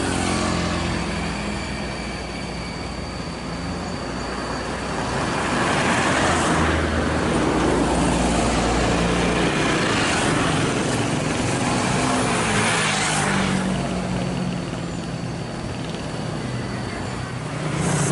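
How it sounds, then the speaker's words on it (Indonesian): Buses, including a PO Sahabat coach, passing on a road amid traffic, a broad rushing roar that swells as vehicles go by and then eases, with no talking. "Selanjutnya ada 2 unit bus kuningan yakni dari PO Sahabat dan Bintang Luragung Asri"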